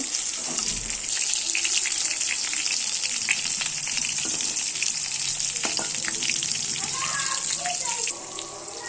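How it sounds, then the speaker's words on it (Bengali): Chicken tikiya patties sizzle steadily in hot oil in a pan, a loud continuous frying hiss with occasional spatters and a few soft clinks of turning, running almost unbroken before easing slightly at the end. "মুরগির মাংস টিকিয়া ভাজা হয়ে গিয়েছে।"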